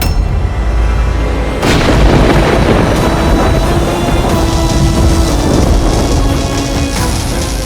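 The Indrastra divine weapon unleashes a storm in a Ramayan battle scene: a loud, dense roar of pouring rain with deep rumbling thunder that suddenly swells stronger early on and then stays heavy throughout.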